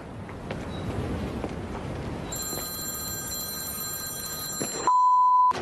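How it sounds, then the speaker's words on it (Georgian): A telephone rings indoors, its tone rising over soft background noise and ending in a loud, steady electronic ring. "რატომ მირეკავ მანოლია, მითხარე"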